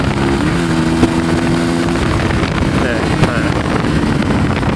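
A Honda CBR150i with its muffler and catalytic converter cut out roars loud and close as the throttle is twisted while riding, with heavy wind buffeting the microphone throughout.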